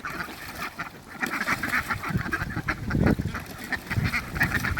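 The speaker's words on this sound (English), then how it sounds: "Crazy duck time." Several ducks quack in bursts on an outdoor deck on a late afternoon, calls overlapping at close to middle distance over a steady background.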